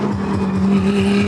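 Lamborghini race car at the Nurburgring 24 hours race, a loud roaring engine note with a rising pitch, close and dominant throughout the short burst.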